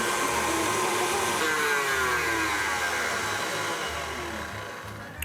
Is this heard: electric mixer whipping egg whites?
yes